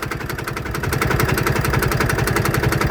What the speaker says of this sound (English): That noisy thing we can hear is a Drayton 34 diesel engine on a Ransomes crawler.